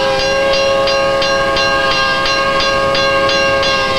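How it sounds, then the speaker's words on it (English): A train sounds an unusual horn as it nears a level crossing, a loud sustained multi-tone blast pulsing in a regular rhythm, close and alone with no voices. "Now the train's going, making this different kind of horn, which I've never heard."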